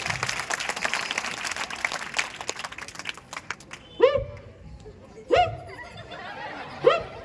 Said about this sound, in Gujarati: એટલા માટે એમના માટે પણ આપણે તાળીઓ વગાડીશું